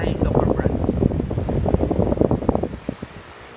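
An Asahi wall fan (model WF-821) hums and whooshes steadily at speed 3, with fluttering airflow noise up close.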